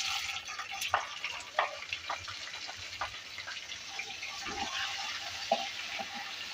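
Chopped onion fries with whole spices for dal, a faint, steady sizzle with scattered crackles and pops.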